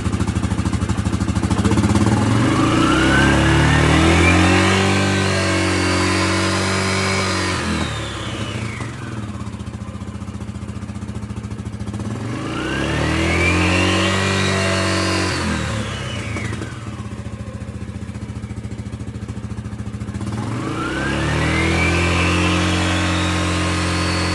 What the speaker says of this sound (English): Start it up. We're just gonna slowly get on the throttle